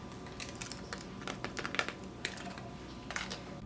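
Crisp air-fried tortillas crunch and crackle in a series of short, sharp snaps of uneven rhythm, quiet and close, with no voices.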